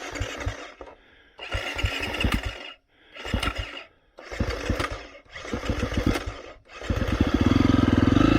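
A tuned car engine on an ECU reflash test run, revving hard under acceleration in third gear: repeated loud roaring surges with brief drops between pulls, the last one rising and holding at high revs, no talking.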